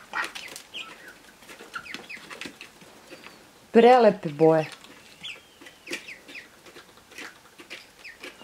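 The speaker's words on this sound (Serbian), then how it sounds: "Vidite petla. Evo ga petal." A rooster and hens on a farm cluck and call in short bursts, with one loud crowing-like outburst near the middle standing out from the softer flock sounds while a person talks in between.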